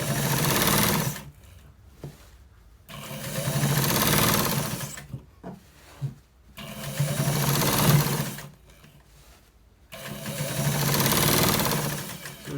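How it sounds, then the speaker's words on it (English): A sewing machine stitches lace into a trouser waistband, running in four long, loud, rapid-chattering bursts separated by brief quiet pauses. "So we are stitching that one too."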